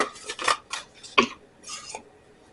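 A spoon scrapes and clinks against a bowl while dry ingredients for squash fritters, garlic powder among them, are stirred together, in several short, close, uneven strokes with pauses between.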